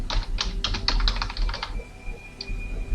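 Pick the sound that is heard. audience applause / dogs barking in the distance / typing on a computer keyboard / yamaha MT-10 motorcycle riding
typing on a computer keyboard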